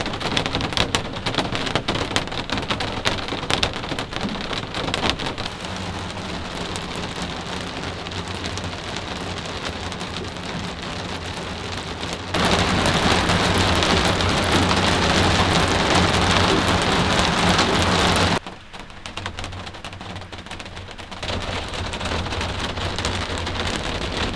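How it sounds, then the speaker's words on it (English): Steady rain hisses down close by, a dense continuous patter with the intensity rising sharply midway, then dipping and returning. "As you all can hear, it's raining."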